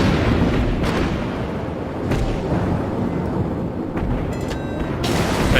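Secondary guns of a warship in World of Warships fire repeatedly, with several deep booms spaced apart over a constant roaring rumble of battle.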